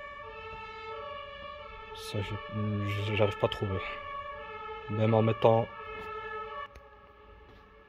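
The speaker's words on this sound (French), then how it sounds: "il y avait les sirènes de pompiers là" Fire engine sirens sound outside, a sustained wailing tone running throughout at moderate distance, while someone talks in French over it in a couple of bursts.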